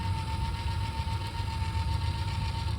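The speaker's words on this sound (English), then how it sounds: "You hear the engine moving with the little motor?" A small electric rear brake actuator motor on a 2019 Toyota RAV4 gives a steady mechanical whir with a thin constant hum throughout, close and even, with a low engine rumble underneath and no pauses.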